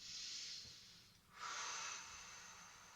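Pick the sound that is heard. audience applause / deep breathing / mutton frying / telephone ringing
deep breathing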